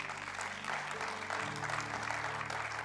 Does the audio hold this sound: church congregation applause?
yes